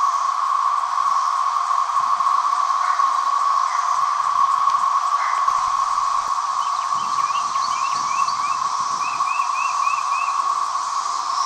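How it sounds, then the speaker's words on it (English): Periodical cicadas (Magicicada) roar from a patch of woods, a loud, constant droning chorus that never lets up, with faint chirps over it and no talk. "trees are alive with some kind of insects making noise. And it's a constant roar."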